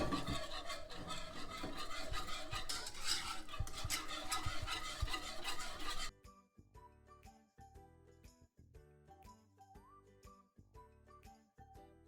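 A white sauce of milk stirred in a pan, with soft scraping and rubbing of the spoon, busier and denser at first, then quieter, sparser strokes with faint tinkles.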